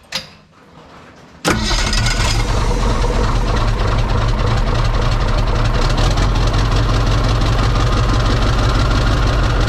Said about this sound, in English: Seeing this flywheel spinning to the running engine gave me an idea.